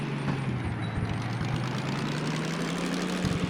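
A DM3 diesel shunting locomotive in the Derail Valley simulator revving as the throttle opens, a steady low rumbling drone with a slowly rising engine pitch, close and continuous with no talk.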